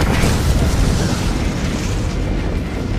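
A spacecraft exploding in space in a sci-fi film, with mutant insects aboard, blasting into countless fragments. It comes across as a loud, sustained, dense rumbling roar that fills the whole stretch without letting up.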